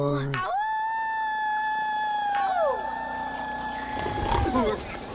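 A boy imitates a wolf howl with his voice: a long, sustained, wavering howl that rises, holds and falls, followed by a second drawn-out howl, loud and close.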